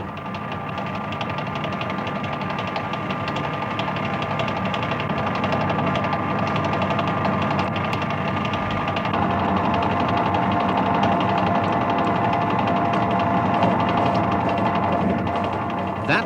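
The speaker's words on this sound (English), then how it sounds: "The work is no longer deflecting, so the cutting action is much smoother." Metal lathe turning a workpiece whose free end is supported by a dead center in the tailstock, giving a steady, smooth machining hum with continuous motor drone and cutting noise throughout, fairly loud and even with no speech.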